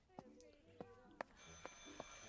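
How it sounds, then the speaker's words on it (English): An old-fashioned telephone ringing in the game Martha is Dead, five quick bright rings in a steady rhythm, faint and close, with no one speaking. "I should pick up the phone but remain silent."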